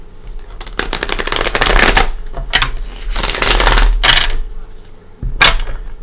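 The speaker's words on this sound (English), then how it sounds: "Give it a couple shuffles." Tarot cards shuffled close up in loud, rapid bursts of riffling and flapping, several separate shuffles divided by short pauses, with no talk.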